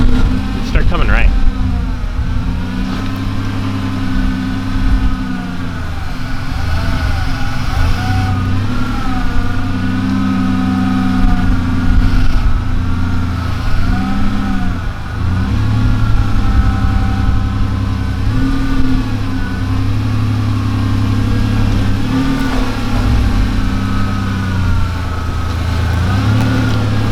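Ford Ranger prerunner truck's engine idles and revs steadily at close range, with a strong low rumble throughout and a few rises in pitch, while people talk over it.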